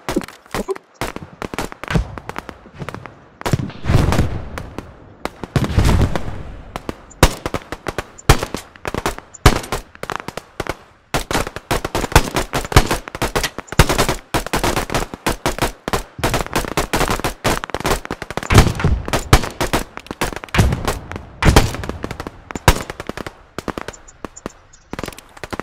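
Rapid video game gunfire while shooting enemies through smoke, dense bursts of loud cracking shots, some in fast automatic runs, continuing almost without pause.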